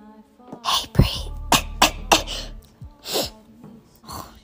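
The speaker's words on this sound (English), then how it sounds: "If you cough or sneeze, you have to make it as quiet as possible." Someone with a cold sneezes, sharp, close bursts mixed with breathy gasps and snorts, several explosive puffs spaced about half a second apart, then softer breathing.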